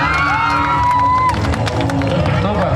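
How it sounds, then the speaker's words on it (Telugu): A crowd at a senior citizens' association gathering in Komanpalli village cheers, whoops and shouts in a dense, lively roar that holds steady for about three seconds, with voices mixed throughout. "గట్టిగా చప్పట్లు."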